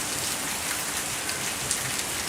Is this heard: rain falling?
yes